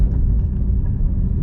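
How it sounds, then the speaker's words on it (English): The flat-crank Voodoo V8 of a 2017 Ford Mustang GT350 gives a low, steady, rumbling drone, loud and close for just over a second, with no voices over it. "You just can't beat that sound of that flat crank V8."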